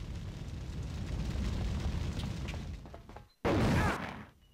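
A grenade launcher explosion in The Thing video game lands as one sudden loud blast after a low rumbling background, then trails off quickly into a fading tail.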